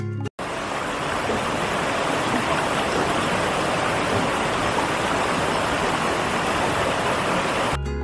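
The Bhatinda waterfall near Dhanbad in winter, a steady, dense rush of falling water that stays loud and unbroken throughout, with no voices over it.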